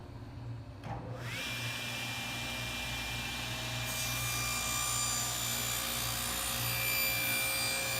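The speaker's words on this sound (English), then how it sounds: "I can safely pass it over the table saw" A table saw spins up and cuts into dense lignum vitae held in a plywood jig, a rising motor whine followed by a sustained loud, grinding cut, close and continuous.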